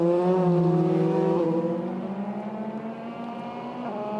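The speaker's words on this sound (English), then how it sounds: "Formula 3 cars, as we said, usually racing in DTM" Formula 3 race cars from the 2005 Euroseries scream past at racing speed, a loud, harmonically rich engine wail that shifts in pitch as the cars pass, with the whine continuing steadily and no voice over it.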